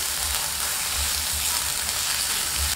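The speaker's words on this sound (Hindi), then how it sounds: "बस 1 छोटी चम्मच डालना है, और सौते कर लेते हैं।" A spoonful of gram flour sizzles steadily as it is sautéed in a pan for a bottle gourd kofta curry, a dense continuous frying hiss heard close with no talking.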